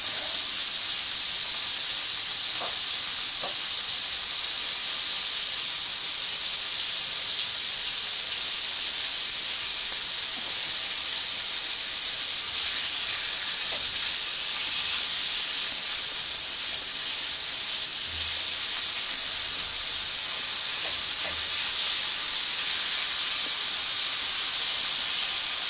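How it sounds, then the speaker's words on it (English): Bacon fries in a hot cast iron pan as its fat renders, with a loud, steady sizzle that holds without a break, close by and free of talk. "So I can put this bacon in there, and as you can see, yes, it is nice and hot."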